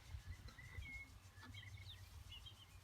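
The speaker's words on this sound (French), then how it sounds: "Tu peux toujours entendre le chant des oiseaux et tout." Birds chirp and tweet outdoors, faint and some distance off, with short scattered calls over a low, steady background rumble.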